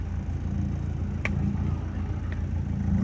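A car engine idles at around 800 to 900 RPM, a steady low rumble with a couple of faint clicks, close and continuous.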